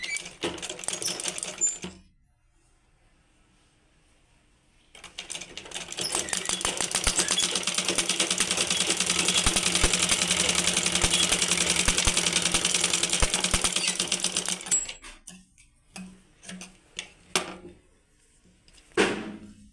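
A sewing machine stitches a folded blouse seam in a long, steady whirring run of about ten seconds, with rapid needle clatter. Short bursts come before and after it, and brief handling knocks close the run.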